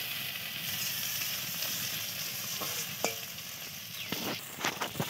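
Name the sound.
onions frying in a pan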